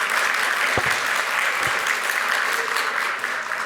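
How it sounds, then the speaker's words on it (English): Conference audience applauding after a talk, a continuous loud wash of clapping from a full room that holds steady throughout with a couple of thumps. "Applause for Michal"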